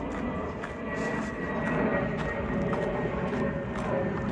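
An airplane passes overhead above a hiking trail in Organ Pipe National Park, a steady broad engine drone that stays constant and fairly loud without any talk.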